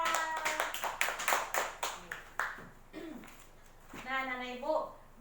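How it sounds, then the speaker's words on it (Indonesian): A fifth-grade classroom claps for a student named Nisa, several sharp bursts of hand claps in an uneven run, followed by a voice speaking near the end. "Tepuk tangan untuk Nisa."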